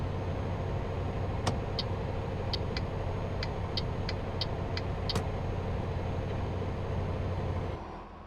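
A steady, low truck engine rumble in Euro Truck Simulator 2 hums continuously while a faint rhythmic ticking clicks above it, then the rumble drops off near the end.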